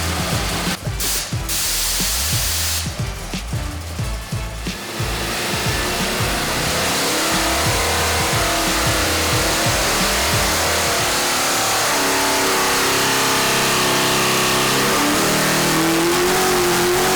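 A nitrous-fed Ford Windsor V8 making over 1,000 horsepower roars on a dyno, revving hard and holding a loud, sustained howl close up for the whole stretch.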